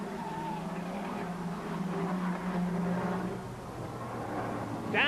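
Ford Sierra Cosworth touring cars race at about 135 mph into Old Hall in the 1989 BTCC, a steady faint engine drone with a rising whine near the end, heard at a distance.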